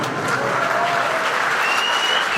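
Dense, steady applause from a concert crowd, a continuous wash of clapping with no voices standing out.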